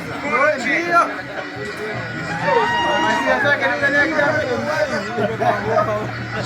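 Stadium crowd celebrating a football goal in Yanga vs Mashujaa, with steady loud chatter and cheering throughout, a dense wash of voices near and far, and a low hum underneath.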